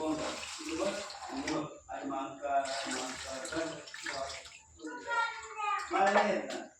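Green peas are rinsed with a little water in a home kitchen, with faint splashing and running water heard under continuous talking.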